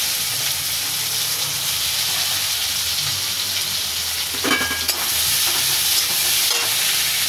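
Chopped onion and black cumin frying in hot oil for a small bhetki fish curry, a dense continuous sizzle close up with a brief stirring clatter midway and no voices.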